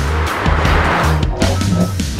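A car is driven hard around a race track, its engine roaring loud and close, with revs rising and dropping through quick gear changes.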